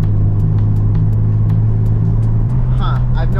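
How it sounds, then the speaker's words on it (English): A Nissan 350Z engine idles with a steady low drone, briefly faltering and dipping for about half a second from a fuel cut before recovering. "It sounds like a fuel cut for like half a second"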